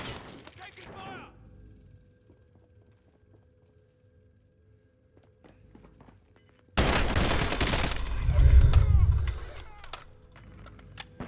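Gunfire in a Fortnite match erupts suddenly after a quiet lull, a loud dense burst of shots and impacts that rumbles for several seconds before easing off.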